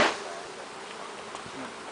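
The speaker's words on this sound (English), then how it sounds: "Now the old bees just all flew out." Honey bees flying out of an opened hive during a mite wash and hive inspection, giving a faint, steady insect buzz that lasts for about two seconds with no voices.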